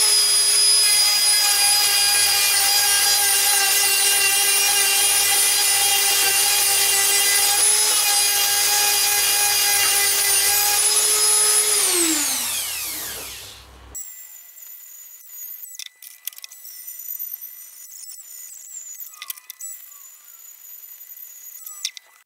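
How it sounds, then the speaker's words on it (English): A Dremel 4000 fitted with a sanding drum whines steadily at high speed while cleaning up steel welds, then spins down and stops, followed by quiet scraping and handling sounds. "What I'm going to do now is clean up the welds, and for that I'm just going to use a Dremel with a sanding drum."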